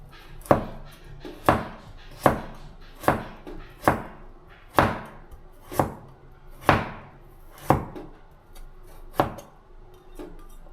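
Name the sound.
knife cutting a carrot into thin strips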